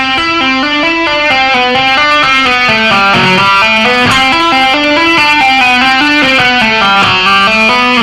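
Electric guitar lick built from hammer-ons and pull-offs at a slow tempo, loud and continuous with a processed, effects-laden tone and smoothly connected notes, no voices.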